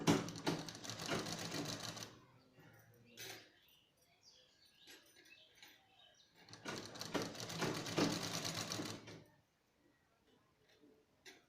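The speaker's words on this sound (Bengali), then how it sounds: "এইভাবে বসিয়ে বর্ডারে বসিয়ে সেলাই করব" A sewing machine stitches a border onto a toddler's frock in two loud bursts of rapid, even clatter separated by quiet pauses with soft handling noises of fabric.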